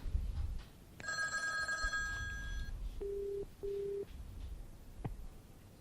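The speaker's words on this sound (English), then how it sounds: "When I click the green button, it will initiate the call on my soft phone, which I must accept." A softphone rings after a call is placed from a computer: a bright electronic ring sounds for about two seconds, followed by two shorter steady tones, all alone with no talking.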